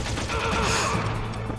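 Gunfire in the Metal Gear Solid video game crackles in a short, dense burst of rapid shots, close and fairly loud, with a faint voice underneath.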